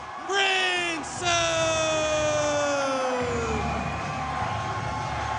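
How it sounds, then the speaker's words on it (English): A boxing crowd roars and whoops as a heavyweight fighter enters the arena, a loud sustained wall of cheering with shrill whistles and yells rising above it. "He comes into the roar of the crowd"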